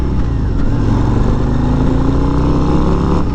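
A 2022 Harley-Davidson Road Glide ST touring bagger rumbles loudly through a turn, its engine holding a deep, steady drone with slowly rising pitch, close and continuous, with wind noise over it.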